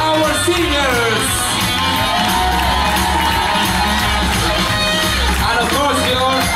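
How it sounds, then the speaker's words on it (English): A large crowd cheers and whoops loudly, with shouts rising over a dense, continuous roar of clapping and voices. "let me hear you big round of applause for our singers"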